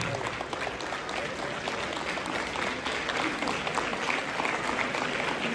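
A large audience claps at a state-level World AIDS Day awareness event held by the Punjab government at Rayat Bahra University. The dense, loud applause is sustained and steady from start to finish.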